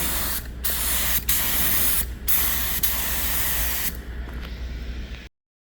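A paint spray gun sprays a steady, loud hiss of atomised paint in long continuous passes, with brief breaks between strokes and softer, choppier bursts near the end before stopping.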